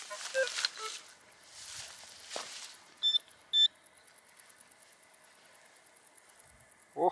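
A metal detector gives short electronic beeps while hunting for coins around a hidden mountain village, two distinct bleeps mid-clip and a faint one at the end, over quiet outdoor background with brief rustling.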